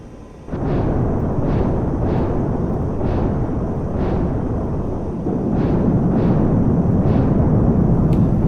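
Rockets fired from an F-86F Sabre in DCS explode in a rapid series of about nine sharp, evenly spaced blasts over a loud steady jet engine drone.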